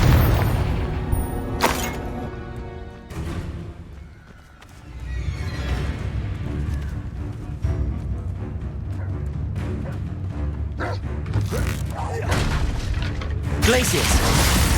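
Flipendo and Confringo spell blasts from Hogwarts Legacy burst out as loud booming impacts and whooshes over a busy fight-sound backdrop, repeated through the stretch, with a voice calling out over them.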